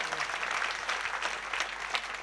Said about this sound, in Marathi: या सगळ्यांसाठी एकदा जोरात टाळी वाजवा